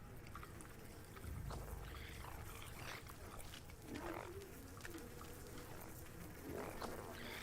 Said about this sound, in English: Frogs? Really?